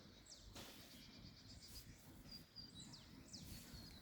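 Tiny birds calling from the trees, with thin high chirps and short whistled notes scattered across a few seconds, soft and distant over a low outdoor hum.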